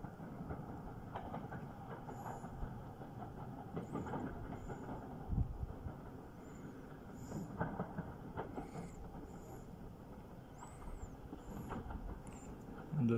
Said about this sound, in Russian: Поезд едет.